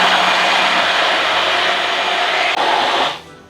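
A kitchen blender premixing a dip with peanut oil, roaring loud and close as one continuous burst for about three seconds before the motor cuts off and winds down.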